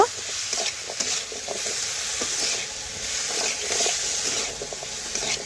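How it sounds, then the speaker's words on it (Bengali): Fish head curry with pumpkin stirred with a spatula in a frying pan, steady sizzling hiss under repeated soft scraping strokes at a moderate pace. "এখন আবারও খুরপি দিয়ে নাড়াচাড়া করে ভালোভাবে আমি সমস্ত কিছু একসাথে মিশিয়ে নেব"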